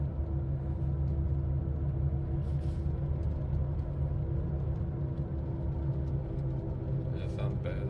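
A continuous low rumbling drone from a 2007 Toyota Tundra's failing front wheel bearing holds steady throughout, with a faint brief voice near the end.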